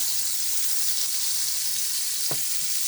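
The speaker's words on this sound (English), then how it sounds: "Now we've got our butter sizzling away over here." Butter sizzles steadily in a hot pan, a constant close hiss with a faint clink near the end.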